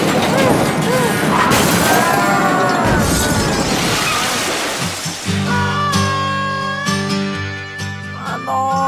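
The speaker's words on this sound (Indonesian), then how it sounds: "Kok ada suara ledakan gitu?" Crash and explosion in a children's game scene where a toy truck stuck at a railway crossing gate is hit by a train: a loud shattering smash with a deep boom, then fading debris and rumbling noise, with talk in the background.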